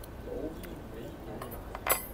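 A spoon stirring coffee mixed with olive oil in a cup, faint scraping then a few bright clinks against the cup near the end, with people talking throughout.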